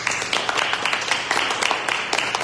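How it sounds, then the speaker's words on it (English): A crowd gathered for a congressman's coffee and conversation event gives a round of applause for veterans, heard as brief, moderately loud, dense clapping. "if we can just have a round of applause for all our veterans"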